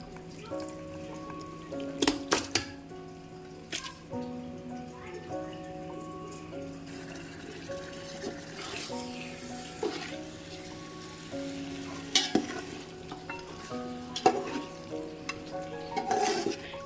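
Marinated mutton fries in green masala for biryani, a low steady sizzle broken by occasional stirring scrapes and clanks. A voice talks over it.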